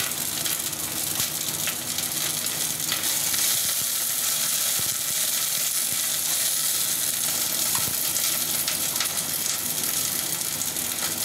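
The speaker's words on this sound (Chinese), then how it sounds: "爆香啲姜，加埋啲葱落去" Ginger and spring onion frying in a hot wok for a braised eel dish: a dense, continuous crackling sizzle with occasional clinks and scrapes, close and steady throughout, with no voices.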